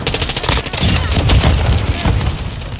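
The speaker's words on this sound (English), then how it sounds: "A stun grenade!" A stun grenade goes off during a multiplayer Headquarters match in Call of Duty Modern Warfare 2, a loud dense burst of booming cracks mixed with rapid gunfire, crowded and close throughout.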